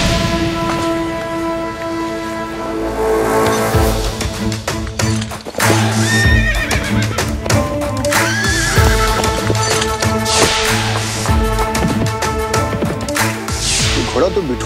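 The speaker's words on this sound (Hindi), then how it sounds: "ये किसका घोड़ा है?" A horse being readied for a royal sporting contest gives loud whinnies over the repeated clip-clop of hooves, with music and bustle mixed in.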